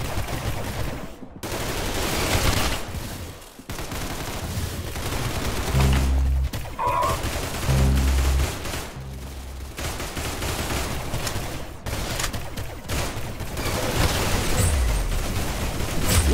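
Rapid gunfire bursts from a Roblox shooter game, dense volleys and single shots packed together over continuous game noise, loud and close throughout with no talk.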